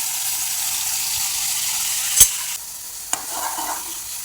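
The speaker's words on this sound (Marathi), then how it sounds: "हे असं 2-4 मिनटं छान परतून घ्यायचं, त्याचं तेल सुटूपर्यंत" Ground masala stuffing for stuffed brinjal frying in hot oil in a kadhai, a continuous close sizzle broken by a couple of sharp spatula knocks and scraping stirs, without any speech.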